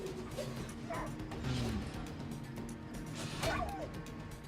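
A dog in the Divinity Original Sin game barks and yips in short bursts amid combat clatter and thwacks, fairly faint and busy, with no talk over it.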